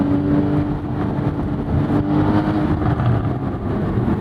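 A Porsche Boxster GTS with a naturally aspirated engine revving in the open-top sports car, a loud, close, throaty drone that rises and falls continuously with no talk over it.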